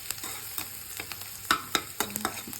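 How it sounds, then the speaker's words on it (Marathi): Onion, ginger and garlic roast in a pan, a soft steady sizzle broken by several sharp scrapes and clinks of a spatula stirring against the metal, close up and with no voices. "अद्रक, लसूण, कांद्याला जास्त लाल नाही करायचे, फक्त थोडा पिंक कलर येईपर्यंत आपल्याला भाजायचे."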